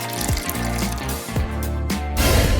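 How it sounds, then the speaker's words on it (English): Water pours and splashes into a cardboard-built tub, a rushing, bubbling fill that runs continuously and grows louder and fuller toward the end. "Add water."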